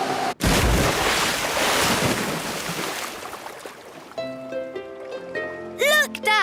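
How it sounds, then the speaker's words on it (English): A cartoon plane smacks down onto open sea in a big, roaring splash of rushing water that slowly fades, followed by light whimsical music with twinkling, swooping tones. "Prepare for a big splash."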